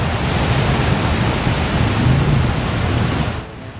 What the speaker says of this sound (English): I am fascinated by the waves here in Puerto Rico